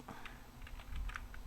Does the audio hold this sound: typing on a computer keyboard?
yes